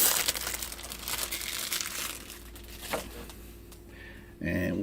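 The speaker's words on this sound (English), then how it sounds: "So you rip that plastic off" Protective plastic film peels off the lid of a spinning display case with crinkling, crackling rustles, loud and close, followed by a brief thump at the end.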